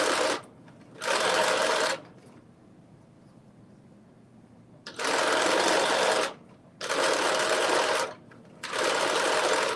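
A sewing machine stitches an elastic casing within the seam allowance on a McCall's M7970 garment, running in four loud, steady bursts of a few seconds each, separated by quiet pauses.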